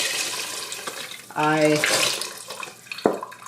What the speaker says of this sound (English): I'm going to add 4 cups of chicken broth.